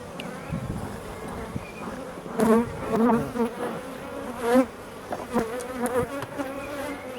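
Honeybees buzzing thickly around an opened beehive during a spring inspection after a hard winter, a steady close swarm drone with rising and falling surges and brief knocks of handling.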